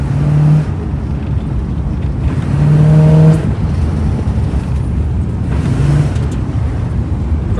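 A 1975 Chevrolet Monza with a 350 V8 drones steadily from inside the car while accelerating, its low engine note swelling and easing in a few rising pulls.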